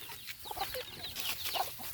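A Phaya Joy chicken out in the fields gives a run of soft, close clucks in quick succession, quiet against a faint outdoor background.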